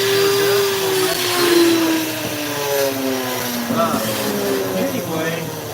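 A flex shaft rotary tool with burr bits carving a wooden owl gives a steady high motor whine whose pitch slowly drops as it bites into the wood, with grinding texture throughout.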